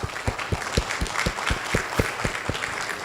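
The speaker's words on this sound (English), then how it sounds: "a round of applause for the technical team at the back" An audience at the Africa Research & Innovation Commercialisation Summit (ARICS) applauds with steady, evenly spaced loud claps that carry on throughout.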